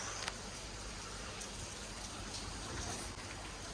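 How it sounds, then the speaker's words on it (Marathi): Steady morning rain falling outdoors, a dense even hiss of drops with a few sharper patters on nearby surfaces, continuous and fairly close, with no talking. "मस्त पाऊस पडतोय बघा."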